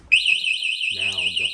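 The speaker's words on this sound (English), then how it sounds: "that will be your warning from touching a bike the first time" An XR5-Pro bike alarm sounding a steady warbling high warning tone, loud and close, with a voice talking underneath in the latter half.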